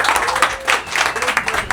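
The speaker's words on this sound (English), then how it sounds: "Give him a round of applause." An audience at a roofing sales presentation bursts into steady applause, a dense stream of many hands clapping close by that carries on throughout, with a voice speaking over it.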